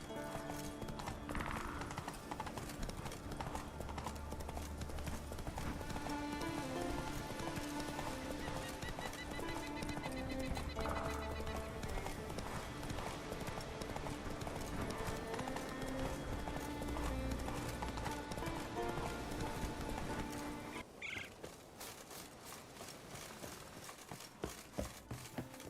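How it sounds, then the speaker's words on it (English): Horse hooves clip-clop steadily in The Witcher 3 game, with occasional neighs and whinnies over a continuous musical score; the hoofbeats stop near the end. "Whoa there, Roach."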